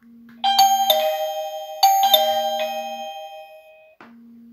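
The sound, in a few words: wireless smart doorbell chime ringing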